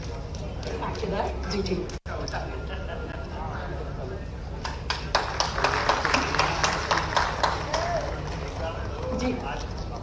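Loud applause and clapping from an audience at a Madhya Pradesh Public Works Department function honouring minister Rakesh Singh's birthday, rising after a brief dropout and continuing dense and sustained, with someone speaking over it.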